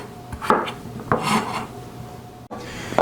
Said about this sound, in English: we want to cut these into about 1 inch, about 3/4 or 1/2 inch to 3/4 inch pieces